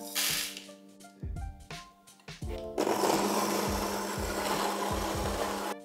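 A Fellow Ode Brew grinder set to medium-coarse grinding coffee, with a few short whirring bursts and then a steady, loud, gritty buzz that runs on continuously.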